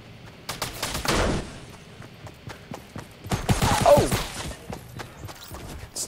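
Gunfire in the video game Fortnite comes in two short bursts of rapid shots among scattered clicks and thumps, moderately loud and near, with no talk over it.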